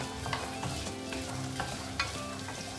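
Potatoes and green beans fry in coconut oil for a festive masala curry, giving a steady, close sizzle with soft stirring scrapes and occasional sharper clinks, no voices.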